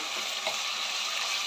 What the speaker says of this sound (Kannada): ಇದು ಎಣ್ಣೆಯಲ್ಲಿ ಸ್ವಲ್ಪ ಬೇಯಲಿಕ್ಕೆ, ಫ್ರೈ ಆಗೋದಕ್ಕೆ ಬಿಡಬೇಕು ನಾವು.